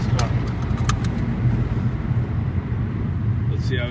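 A Ford car's engine runs with a steady low rumble inside the cabin at a Race Wars event, with a few clicks and jingles near the start and people talking over it.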